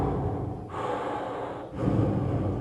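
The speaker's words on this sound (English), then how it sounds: "You make a lot of noise when you breathe" Close, airy breaths drawn in and pushed out against a cupped hand, a soft rushing hiss in three slow waves with brief pauses between them, heard alone.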